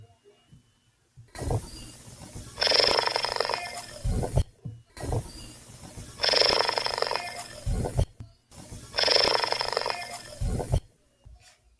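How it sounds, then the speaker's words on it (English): A cheetah purrs, a low rumbling purr repeating in three long cycles, each swelling louder with a raspy, buzzing texture, separated by brief pauses; close and continuous. "check out this vocalization of a cheetah purring"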